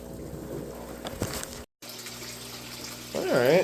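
A DIY koi pond filter pump pushing murky water into a tank, a trickling, splashing flow that cuts out briefly and then returns, swelling louder at the end, with faint background noise.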